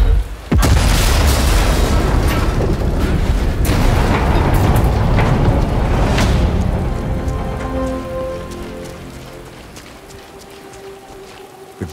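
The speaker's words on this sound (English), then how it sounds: "The gun will blow when it's fired." A rigged rifle blows apart when fired in Sniper Elite 5, a loud deep boom followed by a rumbling, crackling blast that slowly fades over several seconds, with no talk.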